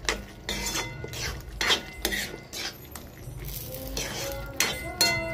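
Paneer masala stirred into a mixed bhaji in a pan: a spoon scrapes and clinks against the metal pan in quick, repeated strokes, close and moderately loud.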